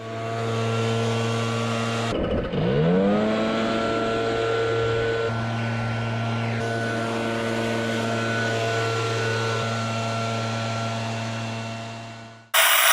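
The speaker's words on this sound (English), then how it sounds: "I'm gonna leaf blow and get all those, plus any fertilizer that might have ended up on the sidewalk or driveway" A leaf blower clears aeration plugs and stray fertilizer off a sidewalk and driveway beside a freshly aerated lawn: a loud, steady motor drone with a strong hum that wavers briefly early on, then holds until it cuts off near the end.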